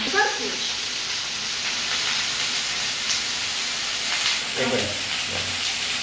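Whole cumin, bay leaf and onion-garlic paste frying in hot oil, a steady broad hiss and sizzle running throughout at moderate level, with a few brief clinks of a utensil near the end.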